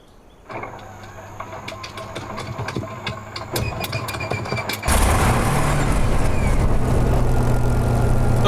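A Spitfire piston engine in Microsoft Flight Simulator cranks with sharp irregular pops, then catches and settles into a loud, steady, rough idle that dominates the sound.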